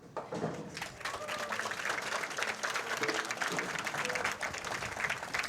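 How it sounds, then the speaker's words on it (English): A crowd at a bowling tournament applauds steadily for several seconds, dense clapping that fills the room, fairly distant and even in loudness. "A round of applause for Verity Cawley."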